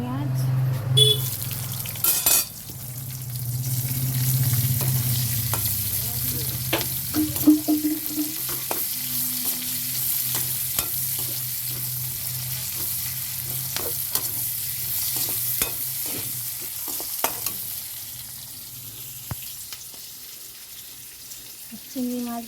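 Sliced onions fry in hot oil in a pan after prawns for a jackfruit-and-prawn curry, giving a steady sizzle with intermittent scraping stir strokes, while running tap water and faint kitchen sounds mix in.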